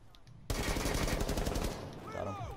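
Rapid automatic gunfire from Thermite's weapon in the Rainbow Six Siege video game, a loud sustained burst of about a second and a half that then cuts off into quieter game sounds.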